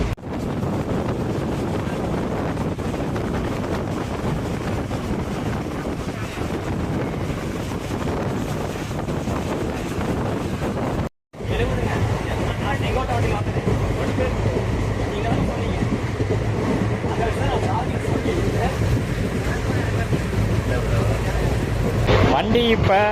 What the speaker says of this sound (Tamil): வண்டி இப்போ இந்த மேக்ஸிமம் பர்மிட்டட் ஸ்பீடு 110 போயிட்டுருக்கு. பயங்கரமான ஒரு ஆட்டம் ஆடுது.